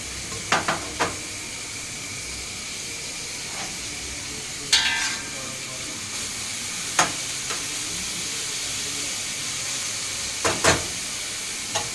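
Onions fry in a pan until they brown, giving a steady soft sizzle and hiss with occasional sharp clicks and scrapes from stirring, close by and with no one talking.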